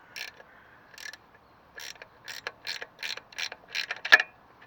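A spanner ratchets around bolts on a Classic Mini alternator, a quick series of about ten clicking bursts in an uneven rhythm, close and fairly quiet.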